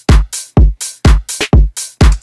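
Punchy tech house drum loop from a production session, with snare and kick hits landing in a tight repeating pattern of about eight strikes, loud and dry with no voices.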